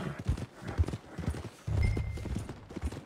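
Hooves of a horse in Red Dead Redemption 2 clip-clop in a steady walking rhythm, close and clear, with faint background ambience and a soft whinny-like rumble midway.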